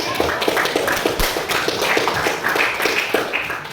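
A class applauds a student group after a teaching-practice presentation, a steady patter of hand claps from a small group in a room, fairly close and continuous throughout.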